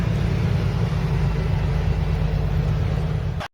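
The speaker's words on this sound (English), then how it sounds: "I believe this is a Western Star. Another awesome truck. Wow. Sounds like a beast as well." A Western Star truck engine rumbles steadily with a deep, heavy low drone at a truck stop, loud and close throughout before cutting off abruptly, with no talking.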